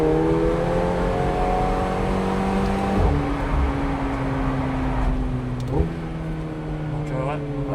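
A supercar engine holds high, steady revs against the rev limiter, its pitch stepping down and wavering with loud, close droning, while voices talk under it.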